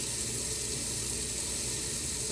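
Water runs steadily from a kitchen sink faucet while a Hydro Flask bottle is hand washed, a constant close rushing stream with no talking.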